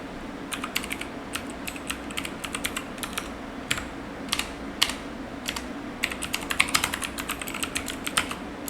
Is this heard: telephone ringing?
no